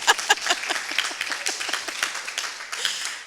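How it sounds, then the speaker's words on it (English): Audience at a town hall meeting clapping for a speaker, a dense, steady round of many hands applauding for about three seconds, moderately loud and fairly close. "Okay, clap for Itoko."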